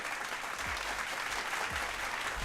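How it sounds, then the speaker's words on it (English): Steady audience applause at a lively gathering, dense and continuous clapping from a crowd filling the whole stretch with even loudness and no talk over it. "Round of applause for that."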